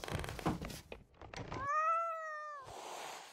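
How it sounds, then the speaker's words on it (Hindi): A cat gives one clear, drawn-out meow, close and moderately loud, set between soft thuds and rustling noises in a quiet room. "बिल्ली"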